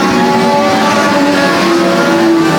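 Race cars of the Ontario Legends Series roaring around Sauble Speedway, a loud, continuous engine drone with shifting whine as cars run in traffic close by.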